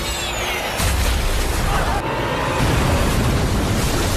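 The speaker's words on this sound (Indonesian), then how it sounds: "setelah ledakan pesawat tersebut" A plane explosion in the film Crocodile Island fills the scene with a loud, continuous roaring blast and rumble that swells after the first second and stays dense and heavy throughout.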